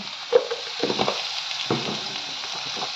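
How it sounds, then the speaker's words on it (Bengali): Pakoras for curry pakora sizzle and bubble in hot oil, a steady crackling hiss close by with a few clinks and scrapes as they are stirred. "আমি কারি পকোড়ার জন্য পকোড়াটা ভাজতে দিয়ে দিচ্ছি"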